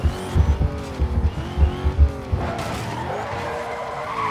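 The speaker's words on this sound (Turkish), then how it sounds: "Burada arabalar çok kaydırıyor ya" Tires squeal and skid repeatedly as cars slide around in Need for Speed Most Wanted, an Aston Martin DB9 among them, with thumping low engine pulses early and a long drawn-out screech toward the end.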